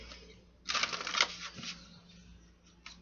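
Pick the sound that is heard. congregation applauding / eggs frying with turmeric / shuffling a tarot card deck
shuffling a tarot card deck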